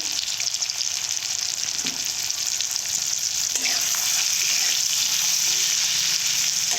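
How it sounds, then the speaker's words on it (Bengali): Spices sizzle steadily as they fry in a pan, with Kashmiri chilli and turmeric stirred through, a continuous close hiss with a few soft scrapes and clinks of stirring. "কিছুক্ষণের জন্য আমি নাড়তে থাকবো"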